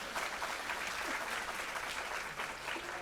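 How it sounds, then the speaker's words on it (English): An audience at a talk on Indian craft and culture cheers and applauds for craftsmen, a steady dense wash of clapping that holds for the full length at moderate volume with no speech over it. "So we really need to give our craftsmen a big cheer for that"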